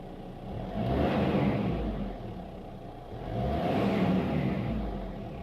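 A 1994 Toyota Hiace 4x4 van with a turbo diesel engine accelerates in two long surges, its low rumble rising and easing twice, heard close and loud with no talk.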